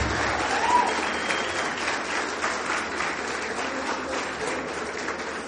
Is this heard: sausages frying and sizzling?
no